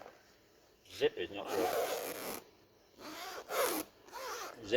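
A zip is dragged along a canvas firepit carry bag in a few short, rasping pulls with pauses between them, close and fairly quiet.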